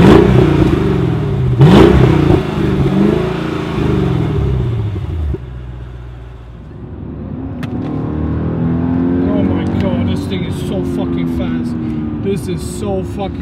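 A loud V8 engine in a 2005 Mercedes CLS 55 AMG rumbles and revs up, rising in pitch as it accelerates, with a throaty roar close by and some voice mixed in.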